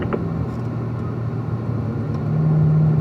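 A race car engine out on a track during driver training laps, a steady loud low drone that swells slightly louder near the end as the throttle opens.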